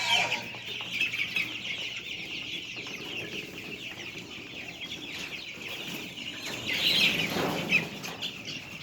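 Chickens cluck and squawk close by inside a homestead building, with a steady high chirping or buzzing in the background and a louder flurry of clucking near the end.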